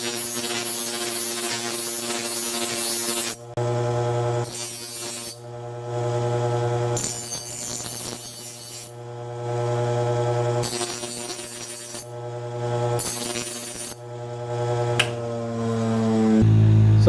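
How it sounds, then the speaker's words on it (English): A stone grinding wheel does rough work on a kitchen knife blade with a hairline crack: a steady, loud motor whine broken by repeated harsh grinding bursts as the steel is pressed on and lifted off, with no talking. "I'm going to use the stone wheel today, just to get in there and do the rough work"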